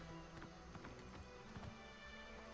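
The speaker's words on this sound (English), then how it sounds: "As my horse jiggles on the road" A horse's hooves clip-clop along a road in the video game Oblivion Remastered, a steady trotting rhythm of soft thuds beneath a dense layer of game ambience and music.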